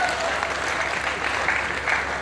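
Audience clapping heartily at a Hindi comedy poetry recital, a dense continuous burst of applause lasting a couple of seconds.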